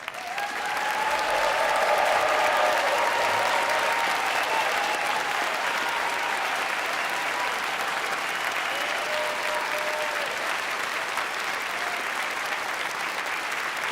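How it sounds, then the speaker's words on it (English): Sustained applause from a concert audience at a piano competition preliminary recital, honoring the standing candidates; a dense, steady wash of clapping that holds at full strength for the whole stretch and tapers only slightly. "give them a round of applause"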